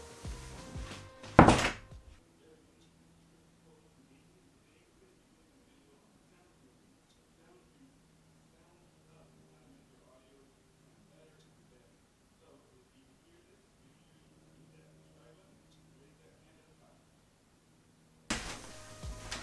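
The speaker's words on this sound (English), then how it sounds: "let's test out the bedroom door. And the bedroom door also now has a door sweep under it." A bedroom door fitted with a door sweep swings shut with a single muffled thunk near the start, then a long near-silent stretch of faint room sounds follows, with another noise burst at the end.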